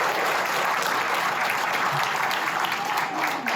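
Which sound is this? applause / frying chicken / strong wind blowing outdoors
applause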